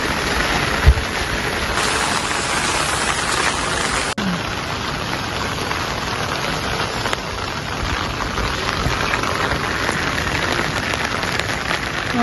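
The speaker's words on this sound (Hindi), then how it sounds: "कितनी ज़्यादा बारिश पड़ रही है।" Heavy monsoon rain pours down steadily over hillside fields in Himachal Pradesh, a dense, constant hiss of drops hitting surfaces close by, with no voices.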